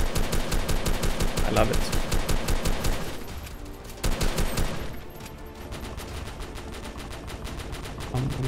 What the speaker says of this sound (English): AK47 is very powerful.